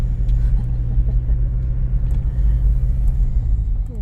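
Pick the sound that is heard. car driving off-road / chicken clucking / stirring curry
car driving off-road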